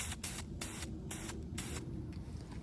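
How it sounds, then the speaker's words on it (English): Spray paint can giving short test bursts in a garage before painting car parts, five or six sharp hissing sprays in quick succession close to the mic, then a fainter trailing hiss. "Give it the old test spray first."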